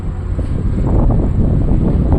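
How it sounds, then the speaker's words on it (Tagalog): Loud, blustery wind at a seaport buffets the microphone in a steady low roar, with no voices. "malakas ang hangin masyado doon"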